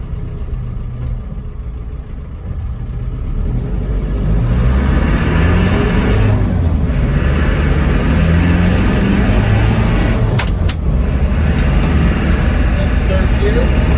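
A 1994 Land Rover Defender 90 with the 200tdi diesel pulls away in first gear. The engine drone swells after a few seconds into a steady, loud rumble, and a voice is heard over it.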